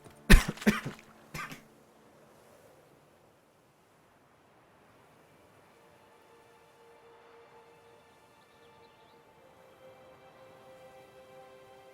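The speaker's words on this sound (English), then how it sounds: "coughing attack." A quick burst of several harsh coughs close to the microphone, then near silence with faint, low background noise.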